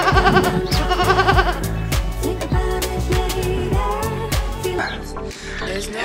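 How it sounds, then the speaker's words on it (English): Goats or sheep bleat repeatedly at a small zoo in Geneva, Switzerland, several close, loud calls in quick succession with people talking nearby. "Another type of goat or sheep."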